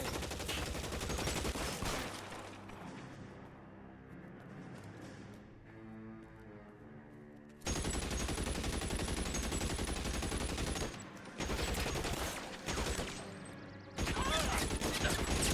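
Intermittent bursts of heavy gunfire in L.A. Noire, loud clustered volleys separated by quieter stretches with a musical score underneath.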